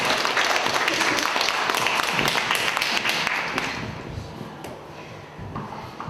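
An audience at a Korean book talk applauds a guest, with brisk, full clapping for about three seconds that then thins and fades into quieter room noise.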